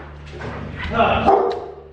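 A dog barks a couple of times outdoors at a property after rain, short gruff yelps rising above someone talking close by.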